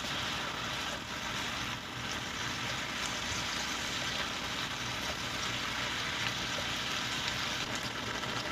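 Ground beef for sloppy joes sizzles in a pan with a steady, even hiss that stays constant and close throughout, with no talking.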